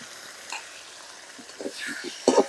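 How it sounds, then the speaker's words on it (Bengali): Pieces of green banana frying in oil with onion, village-style cooking, a quiet steady sizzle with a few soft stirring scrapes and a louder clatter near the end, close by. "কলাটা বাজা নিব তেলের সাথে সুন্দর করে"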